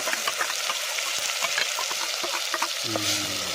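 Homemade masala frying in oil for a village chicken meal, a dense, loud continuous sizzle with stirring scrapes, close to the pan, with a brief low hum near the end.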